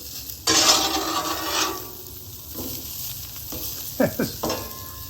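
Bacon steakhouse onion burgers sizzle on a Blackstone griddle, a close hissing fry broken by sharp scraping strokes of a spatula across the flat steel, with a few quick clinks near the end.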